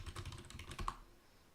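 Password typed on a computer keyboard during a WordPress login, a quick run of close, crisp key clicks with one louder stroke near the end, then fading to quiet.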